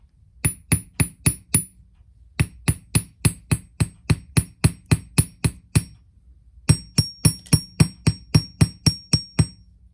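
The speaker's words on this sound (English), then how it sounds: "So now you can go ahead and hammer this down." A hammer strikes a wire bangle bracelet in quick, evenly spaced metallic taps. The taps come in three runs with short pauses between them, each strike sharp and close with a faint ringing top.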